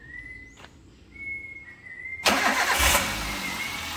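A Toyota Avanza engine cranks and catches, a loud broadband burst of starting that settles into a steady running roar, preceded by faint background tones.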